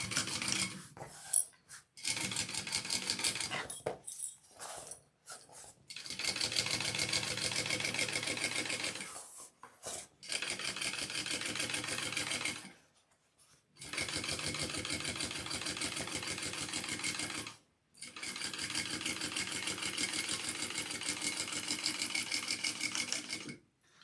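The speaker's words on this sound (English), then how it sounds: "I'm going to top stitch along that." A sewing machine top stitching along a handbag seam runs in long steady buzzing stretches, stopping briefly several times between runs, close and fairly loud with no talking.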